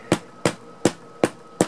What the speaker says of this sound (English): I'm just going to tap it down. I'm not hitting it hard, just using the weight of it to put that down.